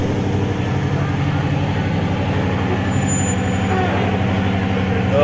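An off-road race vehicle runs a super muddy Ultra4 course at Badlands Off Road Park, its engine a steady loud throbbing drone close by throughout, with faint talk underneath.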